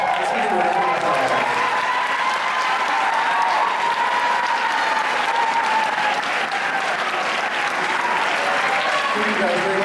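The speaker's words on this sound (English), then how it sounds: "Let's give them a round of applause." A school orchestra concert audience gives a full, steady round of applause, dense and even from start to finish, with a faint murmur of voices mixed into the clapping.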